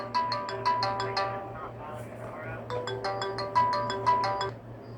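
An incoming call sets a phone ringing with a bright, repeating melodic ringtone in two clear bursts, loud and close over a low steady hum.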